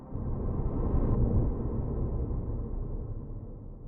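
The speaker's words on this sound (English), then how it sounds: "Now we have a really terrifying reverb tail." A dark, terrifying black hole reverb tail in a sound design session, a dense, loud low-heavy wash that sustains for several seconds and only slowly thins without fading out, with no voices over it.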